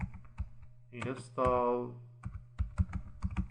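Someone types a command on a computer keyboard, producing quick clustered key clicks close by, with a person talking briefly in the middle before the typing resumes.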